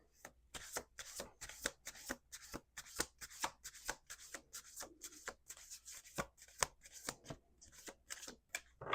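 Steady, close shuffling of cards, a continuous run of rapid papery riffles and taps with no talking.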